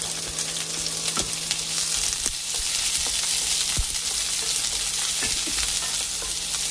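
Sliced onion and green chilies fry in a pan of oil with softened ginger and garlic, giving a steady close sizzle broken by occasional spatula scrapes and clicks, with no voices.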